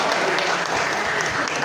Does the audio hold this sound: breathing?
no